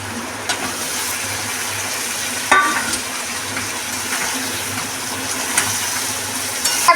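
Boiled potatoes and cauliflower stirred into oil with mustard-based spices in a pan, giving a steady soft sizzle with scraping stir strokes and a few sharper clatters, no voices.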